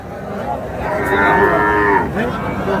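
A cow lets out one long, loud moo that rises and falls, with faint crowd murmur and market bustle of a cattle market behind it.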